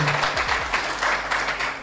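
Audience applause greets Daily Pakistan host Yasir Shami, a short burst of dense, even clapping from a crowd filling the whole moment.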